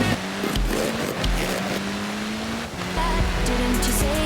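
A Koenigsegg supercar driving in Forza Horizon 4, its engine holding a steady droning tone with shifting pitch and tire and road noise, fairly close and continuous with no talk over it.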